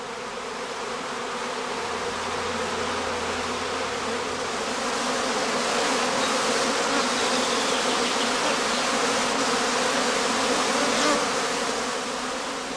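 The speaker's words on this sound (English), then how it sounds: "If a cast is thrown off now, the swarm follows the queen out of the skep entrance in a regular cascade." A honeybee cast swarm pouring out of the entrance of a heather straw skep in an apiary, a dense loud continuous buzzing drone of many bees that swells slightly and holds steady throughout.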